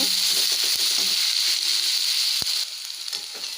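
Onions sauté in a pan, giving a steady close sizzle with a few sharp clicks of a spoon against the pan; the frying quiets slightly toward the end.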